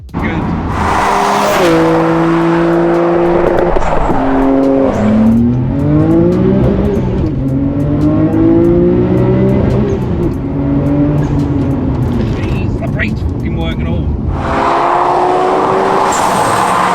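Nissan Skyline R32 GTR engine revving loudly and close, with repeated rising and falling sweeps through the rev range over a steady roar, no talking.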